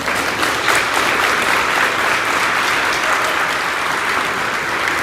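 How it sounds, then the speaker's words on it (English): Steady, loud applause from an audience honoring eighth-grade students at a school awards event, continuous clapping throughout without talk. "Let's give these guys a round of applause"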